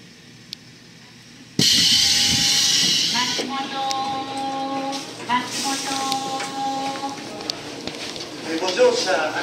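E351 series electric train at Matsumoto Station, a loud hiss of air released from the brakes, then steady mechanical humming and tonal whine from the train standing at the platform.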